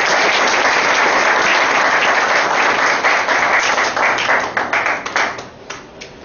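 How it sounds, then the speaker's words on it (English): A speech club audience gives loud, dense applause, steady for several seconds before breaking into fewer, separate claps and fading out. "I think our club deserves a big round of applause"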